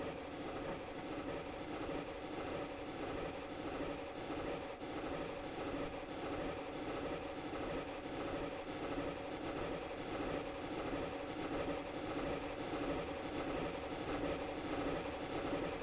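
DSP&P Mogul steam locomotives run in Train Simulator Classic, giving a steady, even rumble with faint rhythmic clatter that carries on unbroken throughout.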